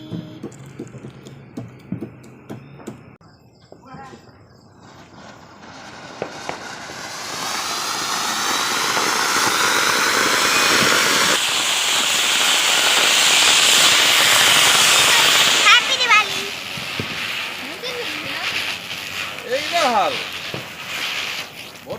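Diwali fireworks and firecrackers hiss, whistle and crackle in a long, rising wash of noise outdoors, with occasional sharp pops and people's voices mixed in.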